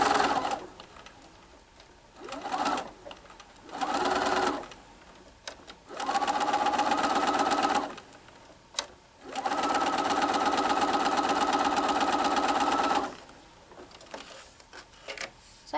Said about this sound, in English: And I'm going to sew and then just reposition my fabric gently without stretching it until I reach the end.